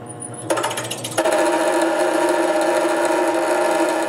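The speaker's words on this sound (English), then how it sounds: "Then I drill a small hole." A drill bit bores a small hole into a morse taper turning on a lathe at its slowest speed, a steady whining grind that starts with a clunk and holds evenly.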